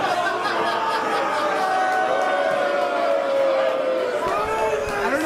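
Ringside crowd at a wrestling event booing, a steady murmur of many voices with sustained jeering tones, fairly close and continuous throughout.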